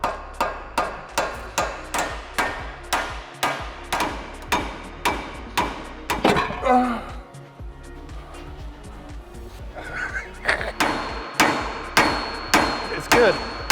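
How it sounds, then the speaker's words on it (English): Toffee hammer knocking powder coat off Honda Civic EK9 Type R parts during a strip-down, a loud, steady run of sharp metallic strikes with a brief scraping pause in the middle before the hammering resumes. "Doesn't matter that I'm hammering this fantastic powder coat, because that's all going."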